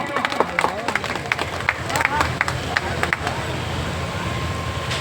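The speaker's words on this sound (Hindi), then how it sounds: "एक दो बंद का आप लोगों की जोरदार तालियां आनी चाहिए मित्रों" Audience clapping at a stage event of the Sitadwar fair, rapid scattered claps in a fairly close crowd mixed with murmuring and people talking over the noise.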